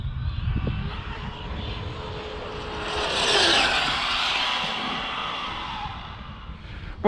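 A radio-controlled twin-motor car passes at speed, its high motor whine rising to a loud peak around the middle and then fading, over outdoor background noise, with a brief sharp sound at the very end.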